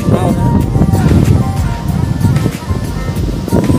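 Sea waves roll and wash steadily at Payyambalam beach in Kerala, a loud, continuous surf roar mixed with wind buffeting the microphone, while a person talks over it.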